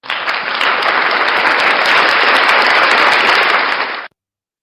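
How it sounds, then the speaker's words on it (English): Loud, dense audience applause from a close crowd, a continuous burst of clapping lasting about four seconds that cuts off abruptly into silence. "Round of applause for Minnie Hez."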